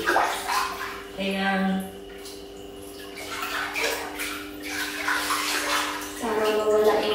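Hot water runs steadily into a bathtub as it fills on a cold day in Japan, a continuous gushing wash with a person talking over it.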